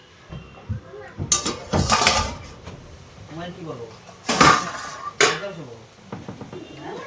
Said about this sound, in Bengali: তো শাকটা এখন আমি একটু ঢেকে দেবো, ততক্ষণে শাকটা হয়ে যাক।